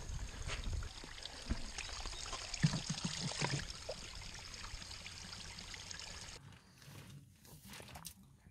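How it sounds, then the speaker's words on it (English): Mountain water trickling and splashing down from above at dusk in the French Alps, a soft continuous rushing stream at moderate distance that fades into quieter dribbling near the end, with no voices. "Here is some water going from up there."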